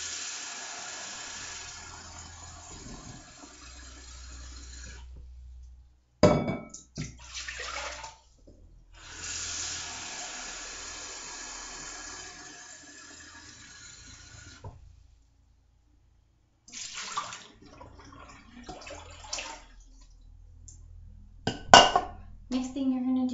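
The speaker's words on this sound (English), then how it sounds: "First thing you're going to do is you're going to measure out 3 cups of water" Water pours in several bursts as 3 cups are measured into a bowl, with brief clinks of dishes and pauses of silence between pours.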